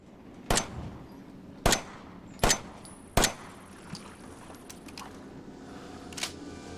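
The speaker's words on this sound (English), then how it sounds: "So here is how Ethan reloads the pistol in Resident Evil 7." Pistol being reloaded in the game Resident Evil 7, four sharp metallic clacks at close range spaced about a second apart, then softer handling clicks over a low hum.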